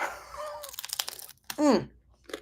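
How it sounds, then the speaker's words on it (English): Crunchy bread topped with hummus is bitten and chewed, giving a few short, close crackling crunches mixed with bits of a nearby voice. "This bread got crunchy."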